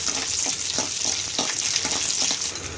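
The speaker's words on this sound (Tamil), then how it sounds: "கடலைப்பருப்பு அப்படியே கொஞ்சம் வறுத்ததுக்கப்புறம் மல்லி ஆட் பண்ணலாம்." Chana dal fries in hot sesame oil for a tangy brinjal kuzhambu, a steady close sizzle with a few soft stirring scrapes running through it, no voices.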